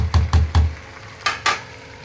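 Spices and okra fry in hot oil, with several quick spoon scrapes and taps against the pan over a soft sizzle in a short, close burst.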